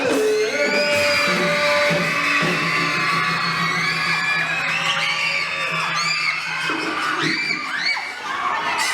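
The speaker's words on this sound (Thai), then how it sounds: "เอาแค่กรี๊ดออกมาแค่ลมหายใจเดียว" Schoolchildren screaming together at a school campfire night, a loud sustained crowd of high shrieks and whoops held for several seconds, then trailing off into scattered yells.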